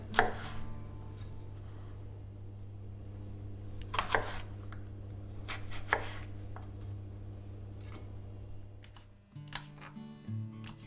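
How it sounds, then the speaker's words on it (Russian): A knife chops apples into cubes on a board in a few sharp bursts of cutting strokes, close up, with a steady low hum underneath. "Затем яблоки нарезаю кубиками среднего размера"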